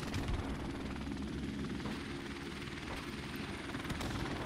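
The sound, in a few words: helicopter flying in a video game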